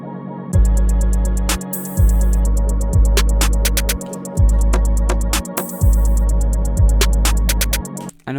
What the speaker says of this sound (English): The whole beat together would sound something like this.